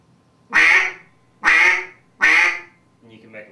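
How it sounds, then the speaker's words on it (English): Three loud, evenly spaced nasal quacks blown on a Duck Lander duck call, each a sharp burst that trails off, followed by a softer, shorter fourth note, with no talking over them. "When you take the middle of your tongue and you put it against the roof of your mouth, that is what makes a quack."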